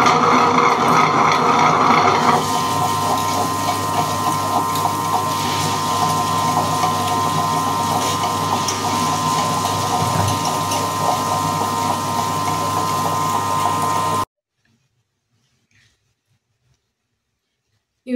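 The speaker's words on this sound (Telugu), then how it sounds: "ఇప్పుడు పప్పును బియ్యము గ్రైండ్ వేసుకుందాం." A wet grinder churns soaked dal and ration rice with a steady mechanical whir and rhythmic clatter, loud and close, then cuts off abruptly into silence.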